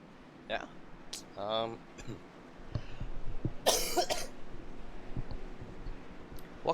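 A person coughs and clears their throat a few times, close to the microphone, while talking continues over a racing game's engine hum.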